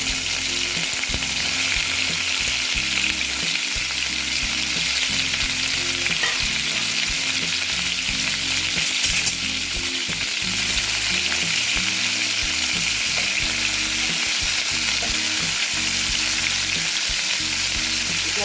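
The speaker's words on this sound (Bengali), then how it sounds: "আমি আস্তে আস্তে মাছগুলো ভেজে নিচ্ছি" Shol fish frying in a hot pan, a loud continuous oil sizzle and crackle with occasional stirring scrapes, close up and steady throughout with no voices.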